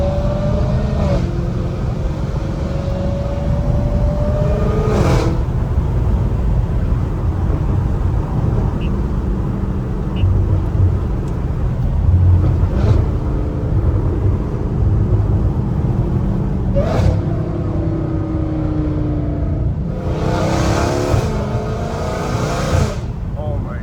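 A straight-piped Dodge Hellcat Redeye roars continuously from inside the car, its exhaust droning loud and steady with several rising rev pulls and gear changes spaced through the run.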